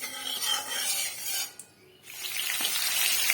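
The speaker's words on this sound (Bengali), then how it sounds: "কড়াতে তেল দিয়ে দিয়েছি, তেল গরম হয়ে গেছে। এবার আমি দিয়ে দেবো আলুগুলো ভাজতে।" Potatoes frying in hot oil in a wok, giving a loud, steady, close sizzle that drops away briefly partway through before surging back.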